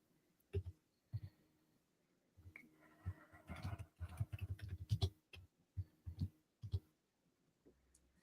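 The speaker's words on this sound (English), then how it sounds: "just typing this in the chat here for everybody" Bursts of keyboard typing with irregular clicks and short pauses between flurries, fairly close, with no voices.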